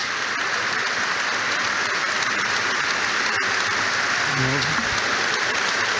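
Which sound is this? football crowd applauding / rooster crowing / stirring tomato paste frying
football crowd applauding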